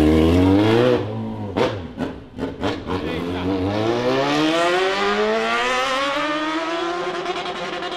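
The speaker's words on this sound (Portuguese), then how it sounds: "Vai, Renato, acelera essa XJ6 branca." A white Yamaha XJ6 motorcycle with a straight-pipe exhaust is revved hard, its engine note sweeping up and roaring loudly, with people talking over it.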